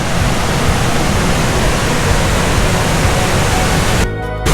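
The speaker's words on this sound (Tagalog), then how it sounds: "Dito yung waterfalls." Silvermine Bay waterfall in Mui Wo, Hong Kong, pouring as a loud, steady broadband roar of rushing water that fills the scene without pause before dropping out abruptly at the very end.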